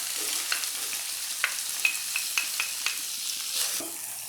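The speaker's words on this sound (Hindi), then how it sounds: "2 खाने के चम्मच कुकिंग ऑयल मैंने पैन में डाल लिया है। और अब इसके अंदर प्याज को कुछ देर पकाऊंगी।" Onions cooking in about two tablespoons of oil in a pan for a chicken mince samosa filling, a steady close sizzle broken by several sharp crackles and stirring scrapes, with no talk.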